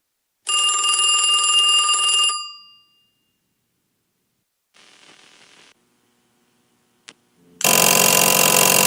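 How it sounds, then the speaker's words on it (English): Telephone ringing in a game jam prototype: a bright electronic ring burst lasting about two seconds, a faint shorter buzz later, a sharp click, then a loud harsh noisy tone cutting in at the end. "Phone ringing."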